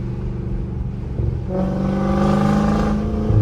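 A Dodge Scat Pack in sport mode revs close by. Its engine drone climbs to a louder, harsher growl about halfway through and holds strong with a raspy edge.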